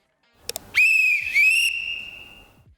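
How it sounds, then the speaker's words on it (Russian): A referee's whistle in a kila match sounds one long, loud, shrill blast lasting nearly two seconds after a couple of faint clicks, with a slight dip partway through and no voices. "свистком будем обозначать короткий сигнал точкой, продолжительный сигнал тире."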